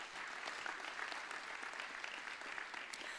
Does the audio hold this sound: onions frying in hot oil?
no